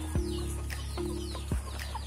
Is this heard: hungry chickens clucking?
yes